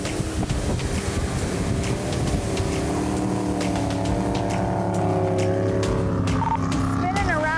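A speeding motorboat exceeding a 55 mph speed limit roars past on a river, its engine a loud rising and falling drone with strong wind buffeting, while people talk over it.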